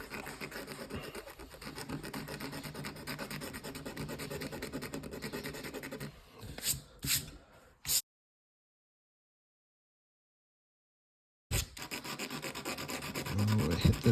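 A razor blade scrapes across watercolor paper in a steady close rubbing scratch, then a few short strokes, a silent gap, and the scratching resumes, with no voice.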